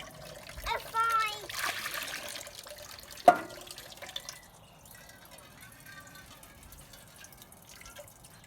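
Water drips and trickles while a drained household plumbing system refills, with faint splashing and a sharp drop early on, then a quiet low trickle; voices, including a child's, speak briefly at the start.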